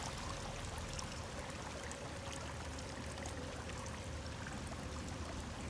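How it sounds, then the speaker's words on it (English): A flowing stream runs steadily through a cave in Sons of the Forest, a constant rushing, trickling wash of water at moderate distance with no voices. "Man, if there's flowing water, it has to come in from somewhere."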